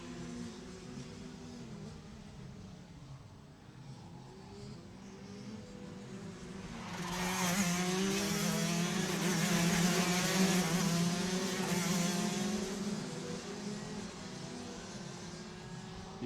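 Rotax DD2 racing karts run in qualifying at Jupiter, Florida, droning engines passing at a distance, then a louder pack swells through the middle before fading back to a steady hum.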